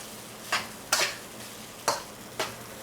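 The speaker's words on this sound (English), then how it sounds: "I am truly going to fry this rice." Rice for Peruvian arroz chaufa frying over high heat in a pan, heard as four quiet bursts of sizzle and scraping as it is tossed and stirred, with a faint steady background between them.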